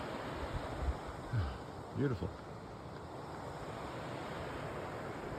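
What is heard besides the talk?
river rapids rushing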